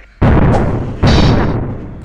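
Two loud bomb blasts from the Supreme Duelist Stickman game erupt about a second apart, each a sharp booming burst that decays into a rumbling tail.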